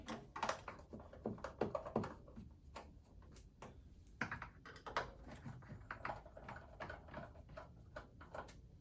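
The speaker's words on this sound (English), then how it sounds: "using a Phillips screwdriver, we're going to be unscrewing 3 screws on outside of the case" A Phillips screwdriver backing screws out of the outer case of a Zebra Xi4 printer, giving small irregular clicks and scraping ticks in uneven bursts, close and fairly quiet.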